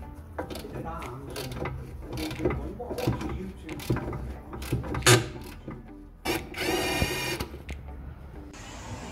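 A ratchet undoes a Torx E18 bolt on a 2013 Citroen DS3, with bursts of rapid, close metallic clicking between knocks and tool clatter.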